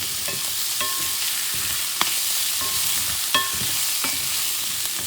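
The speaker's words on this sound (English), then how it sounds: "caramelize these mushrooms." Mushrooms caramelizing in a hot pan on a gas stove give a steady, close sizzle throughout, broken by a few sharp clicks and scrapes of stirring.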